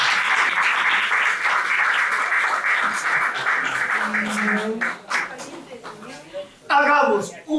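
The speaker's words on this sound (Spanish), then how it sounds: "Un aplauso." An audience applauds at a book presentation, loud steady clapping for about five seconds that then thins out, followed by a voice speaking.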